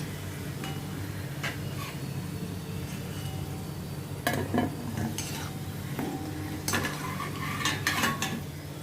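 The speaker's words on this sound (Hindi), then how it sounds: "इसी तरह से अभी मैं ये दूसरा बैच भी मैं फ्राई कर लेती हूँ।" Mini khasta masala kachori frying in a pan of hot oil: a steady, close sizzle under intermittent stirring and light clinks of a spoon against the pan, with no talking.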